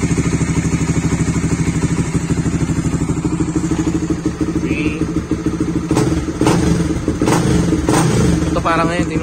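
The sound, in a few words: Supra GTR 150 motorcycle engine revving with MVR1 racing ECU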